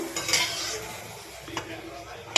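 Papad frying in hot oil and being turned over, a low bubbling sizzle punctuated by scraping and clinks of utensils against the pan, with a sharp clatter at the end.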